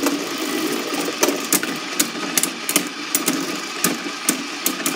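A Beyblade fitted with a Spiral tip whirs steadily in a battle arena after launch, a continuous engine-like hum broken by a series of sharp clicks and knocks as it strikes the stadium.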